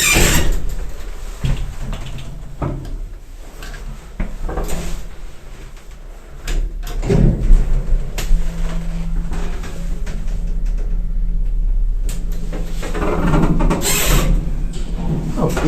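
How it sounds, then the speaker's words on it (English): An old transporter lift in a Prague hospital runs with mechanical clunks and door rattles, a low motor hum droning through the middle stretch, and louder bangs of the doors opening and closing near the start and end. "Let's start off with a really nice old lift, which is an old transporter lift in a hospital."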